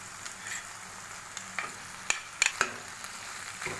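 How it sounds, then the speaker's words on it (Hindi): Macaroni goes into a pan of sizzling cooked vegetables: a soft steady sizzle with scattered scraping and stirring clatters, a few sharper knocks midway, close and alone without speech. "अब मैं इसमें मैक्रोनी डाल दूंगी।"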